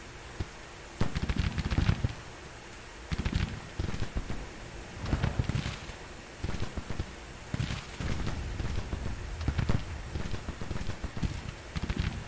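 Steady rain hisses across a muddy Civil War battlefield in a strategy video game, a constant wash beneath louder, intermittent bursts of other game noises over about twelve seconds.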